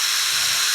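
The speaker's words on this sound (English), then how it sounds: "Drill your pilot hole" A drill bores a pilot hole into wood, giving a short, continuous high-pitched whirring hiss at close range.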